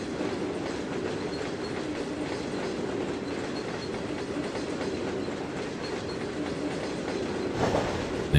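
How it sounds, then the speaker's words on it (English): A simulated freight train in Trainz 2022 rolls past with potash and grain hopper cars, a steady rumbling clickety-clack of wheels over rail joints throughout, fairly loud and close, with no talk. "this is the last of the train coming up here now."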